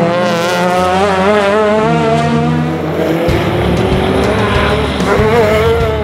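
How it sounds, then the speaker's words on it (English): A rotary-powered Mazda RX3 and a Nissan GTR racing at the Waimate 50 street circuit, their engines wailing loud and close in a continuous high-revving roar that rises and shifts as they pass. "On the final lap, the Nissan GTR closed in once again, but it was all victory to the rotary-powered Mazda RX3."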